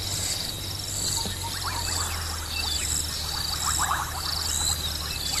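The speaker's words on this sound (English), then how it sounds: "It's just so wonderful to listen to the frogs" Frogs calling at dusk in the African bush, a dense chorus of rapid chirps and trills layered over a steady insect drone, continuous and moderately loud without speech.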